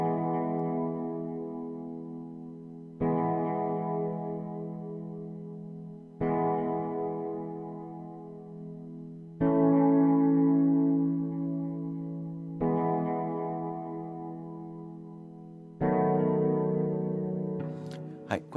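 Soft strings-style synth pad playing gentle whole-note backing chords at 75 bpm in DTM software, six sustained chords each changing about every three seconds, clean and alone.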